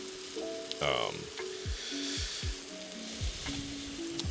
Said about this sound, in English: these veggies are going to continue to steam a little bit.